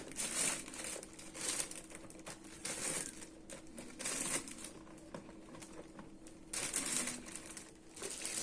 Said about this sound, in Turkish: Tavalık doğramış olduğumuz kırmızı biberlerimizi de poşetleyelim